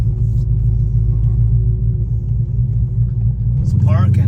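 A Dodge Charger SRT rolls up to a repair shop, its engine giving a low, steady rumble close by, with a brief rising sound near the end.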